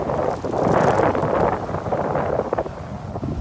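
Gusting wind buffets an outdoor microphone, producing a continuous loud rumbling roar with uneven surges throughout, no other sound standing out.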